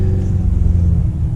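Mercedes-AMG E63S engine in race mode with manual shifting, downshifting with a loud, steady low rumble from close by and no talk over it.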